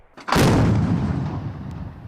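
A 57 mm automatic anti-aircraft gun, roughly 70 years old, fires a single loud, close shot during a military training exercise, followed by a long rumbling decay.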